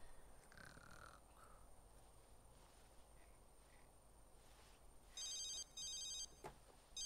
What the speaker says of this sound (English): Oh, that's a phone.